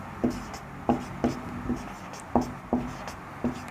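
Marker or chalk strokes on a classroom board during a Hindi-language science lesson on yarn spinning, a series of short taps and scratches in an uneven rhythm, close and clear with no talking.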